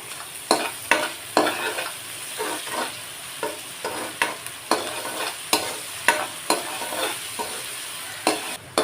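Ingredients for ridge gourd gravy sautéing in a pan, stirred with a regular rhythm of sharp scraping strokes about twice a second over a soft constant sizzle, close and alone.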